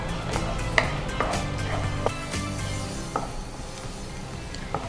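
Chopped onion and curry leaves frying in a pan: a soft, steady sizzle with sharp metallic clinks and scrapes of stirring at irregular intervals, fairly quiet and close.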